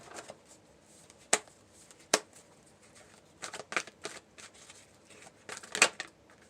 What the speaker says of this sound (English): let's do a quick shuffle on your wisdoms